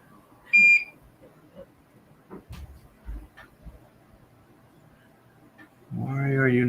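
A single short, clear electronic beep from a BlueSCSI board being tested after soldering, close by, followed by faint handling sounds and a brief voice near the end.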